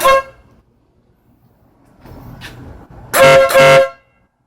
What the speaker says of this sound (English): But she operates right off the horn switch.